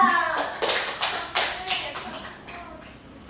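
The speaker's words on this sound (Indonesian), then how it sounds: "Tepuk tangan untuk Aisyah." Children in a classroom clap in a quick burst of irregular, fairly close hand strikes that fade out within a few seconds, with speech from a teacher and kids around it.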